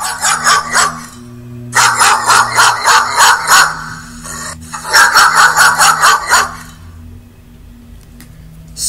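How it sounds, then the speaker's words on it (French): A dog barks in rapid bursts of repeated yips, loud and close, with short pauses between runs. "Aussitôt le chien d'aboyer."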